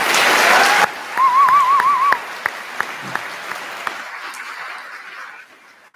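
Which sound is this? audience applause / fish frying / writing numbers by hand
audience applause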